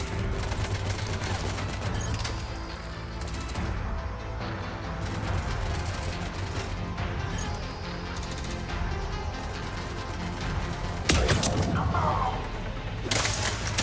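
Sniper rifle fire and battle noise in Mass Effect 3 come through as a steady, fairly quiet combat bed, with sharp cracks scattered throughout and one distinct loud crack near the end.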